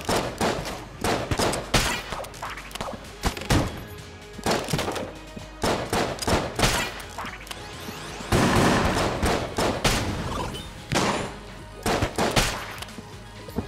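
Dense, relentless gunfire in Enter the Gungeon, a near-continuous barrage of sharp shots and thumping impacts layered into rapid bursts, loud and close throughout with no talking.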